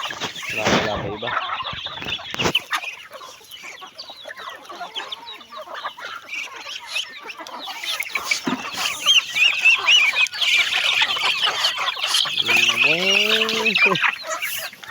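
Chickens cluck and squawk nearby in a lively yard, with a rooster-like call rising near the end over constant outdoor noise.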